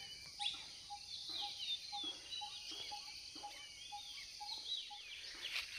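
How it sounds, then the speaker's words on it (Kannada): Many birds call around a village field in the morning, with faint distant chirps and repeated short tones over a steady high insect-like drone outdoors. "ಬೆಳಿಗ್ಗೆ ಎದ್ದು ಹಿಂಗೆ ಹೊಲ್ದತ್ರ ಬಂದರೆ ಇಷ್ಟು ನೂರಾರು ಥರ ಹಕ್ಕಿ ಪಕ್ಷಿಗಳು ಕೂಗೋ ಶಬ್ದ"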